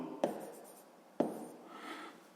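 A pen writes numbers while a sixth-grade math exercise is worked out: two sharp taps on paper about a second apart, then a soft, faint scratch of writing in a quiet room.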